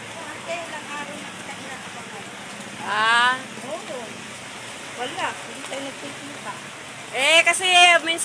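Steady rain hisses throughout while a person talks over it in short bursts, during Typhoon Kristine near Pritil Market amid stranded traffic.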